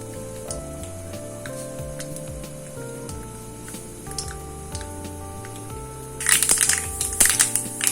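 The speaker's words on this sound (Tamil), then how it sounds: "இப்போ நம்ம கடுகு போட்டுக்கலாம்." Mustard seeds splutter and pop in hot oil while tempering for a pirandai thuvaiyal and kulambu, a sharp crackling burst near the end over steady background music.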